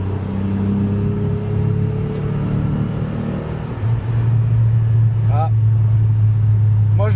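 Renault Clio V6 engine while driving, a steady loud low droning hum from inside the car that deepens partway through, with someone talking over it.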